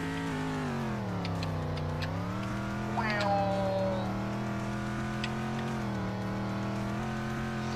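A race car engine in a racing video game holds a loud, steady drone, its pitch dipping and climbing with shifts and revs, plus a brief squeal near the middle.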